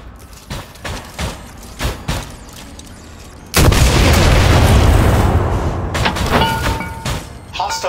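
A SPARK robot in XCOM 2 fires an artillery cannon: sharp mechanical clicks and thumps lead into a heavy sustained boom and roar, followed by scattered crackling impacts.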